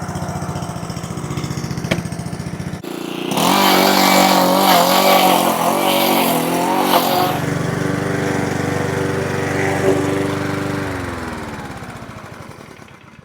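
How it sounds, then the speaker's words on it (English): A lawn mower cuts through wet grass with its grass catcher removed, its engine rising from a low idle to a loud, steady mowing roar for several seconds before settling back down. "I'm gonna mow through the rest of the lawn without the catcher."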